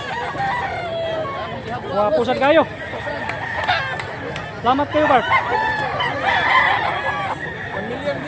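Roosters crowing repeatedly at a gamefowl show in Mantalungon, Cebu, several loud calls overlapping amid clucking, crowd babble and someone talking nearby.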